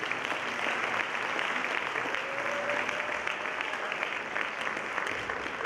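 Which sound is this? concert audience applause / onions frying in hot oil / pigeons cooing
concert audience applause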